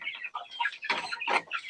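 A two-month-old young rooster (stag) clucks up close in a quick series of short, distinct calls, loud and clear with no talk.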